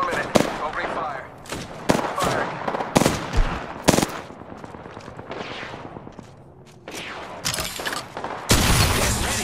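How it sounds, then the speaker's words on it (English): Gunfire in the battle-royale shooter Apex Legends: loud, sharp shots in rapid bursts and single cracks throughout, mixed with game noise, character voice lines and a dense final volley. "Opening fire."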